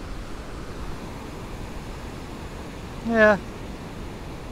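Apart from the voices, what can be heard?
ocean surf waves at Far Rockaway beach, Queens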